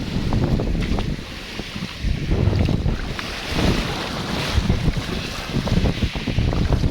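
A new boat motor drones under heavy wind buffeting and splashing waves at sea near an island in the Philippines, with a rough, constant engine rumble close by.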